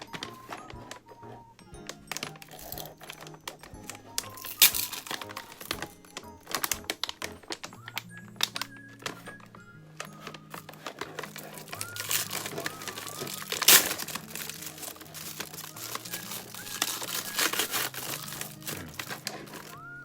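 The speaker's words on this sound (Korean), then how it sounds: "진공 포장인 것 같은데 열어보겠습니다" Vacuum-sealed plastic packaging around Versa Gripps Extreme is pulled open close by, with irregular crinkling, crackling and tapping bursts spread over twenty seconds, some louder snaps among softer rustles.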